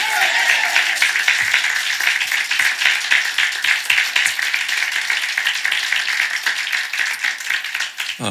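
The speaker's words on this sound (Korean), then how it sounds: "먼저 우리 하나님께 박수로 영광 돌리겠습니다" A church congregation at a Sunday morning worship service claps rhythmically and steadily, many hands together, filling the room at an even loud level.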